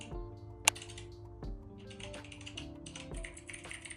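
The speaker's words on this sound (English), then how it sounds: "you want the typing effect" Computer keyboard typing effect: a quick run of tapping keystrokes with a few sharper clicks, close and clear, playing alone without any talk.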